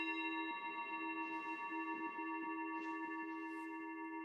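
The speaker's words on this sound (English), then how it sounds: "If it fits you to follow the sound of the Tibetan bowls" A Tibetan singing bowl rings with a sustained metallic tone and steady layered overtones, humming continuously, with soft faint breaths or rustles beneath.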